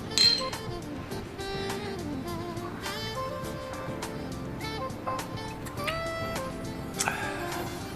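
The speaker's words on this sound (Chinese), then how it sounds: "干杯！" Glasses clink together in a toast, a bright ringing chink standing out near the start over a steady bed of soft background music, with a few lighter ringing touches later.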